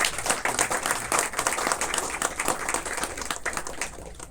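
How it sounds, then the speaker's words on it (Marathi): A crowd applauds at a felicitation ceremony for a 75th birthday, with moderately loud, scattered clapping from many hands that carries on throughout without a break. "मंडळी टाळ्या वाजवा जरा."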